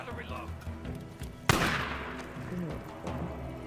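A single sharp gunshot bursts out in the middle of the Days Gone game, loud and close, with ambient game noise before and after and a voice talking faintly.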